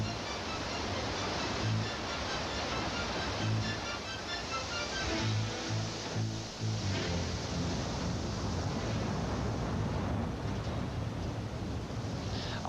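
Bridal Veil Falls in Yosemite, a free-leaping waterfall, roars as a steady, dense rush of falling water, loud and unbroken throughout with no voices.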